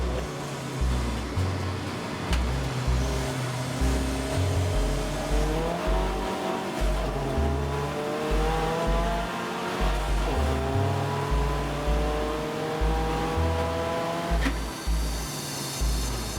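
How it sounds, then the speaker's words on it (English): Racing cars, including a diesel Audi TT and a Ginetta, roar around the Anglesey circuit, engines revving and shifting through gears in a continuous rising and falling drone, with occasional tire squeal. "Ryan Parkin in the diesel Audi there that tries to come down the inside"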